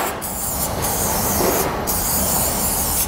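Asphalt primer sprayed onto a metal roofing scupper before torch-down roofing, a loud, continuous close hiss with a couple of slight breaks, with no talking.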